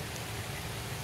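Soft, steady rain hiss with no distinct drops, faint and even throughout.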